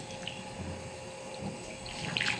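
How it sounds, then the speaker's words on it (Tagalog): Hot water pours from a kettle over grated coconut meat for bukayo, a faint steady trickle and splash in a quiet kitchen. "babanlian natin ng mainit na tubig"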